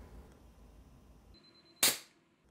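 A gene gun fires gold-coated cartridges into tissue in a research lab: one sharp, loud pop with a short decaying hiss, preceded by a faint thin tone against quiet room background.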